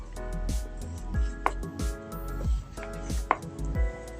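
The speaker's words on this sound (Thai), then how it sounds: "หั่นไปเรื่อยๆแบบนี้นะ" Repeated close knife strikes through pork against a board, roughly one chop every half second, with a couple of sharper clacks among the thuds.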